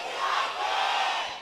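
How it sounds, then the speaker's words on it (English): Fans of CJ Entus cheer loudly in a League of Legends esports arena during a CJ Entus versus KT Rolster match, a dense crowd roar that rises and falls briefly. "CJ fans going nuts."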